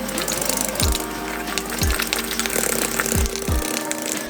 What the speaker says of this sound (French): on va prendre une petite poignée de coriandre. Voilà, une petite poignée de coriandre. Ça, on va encore une fois le hacher.